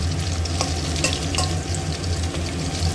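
Vegetables for vegetarian biryani fry in oil in a pan with a continuous close sizzle and occasional stirring scrapes, a low steady hum running beneath.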